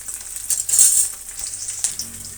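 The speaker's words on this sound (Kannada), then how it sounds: "ಕಟ್ ಮಾಡಿಕೊಂಡಂತಹ ಬೆಳ್ಳುಳ್ಳಿ ಶುಂಠಿ ಹಸಿಮೆಣಸಿನಕಾಯಿನ ಸೇರಿಸ್ತಾ ಇದ್ದೀನಿ ಇಷ್ಟೂ ಫ್ರೈ ಆಗಲಿ ಚೆನ್ನಾಗಿ ಫ್ರೈ ಮಾಡ್ಕೋಬೇಕಾಗತ್ತೆ" Chopped garlic, ginger and green chillies fry in hot oil in a pan, giving a steady, bright crackling sizzle with a brief louder flare, close up and with no voices.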